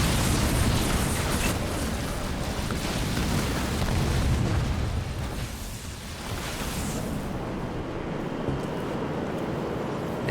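Production buildings blowing up in Halo Wars 2 battle, a continuous roar of dense rumbling explosions and booming debris that swells and dips slightly midway, heavy and close with no talking.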